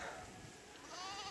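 Goats bleating on a small farm, a short wavering cry at moderate distance rising over steady outdoor background noise, with no voices present.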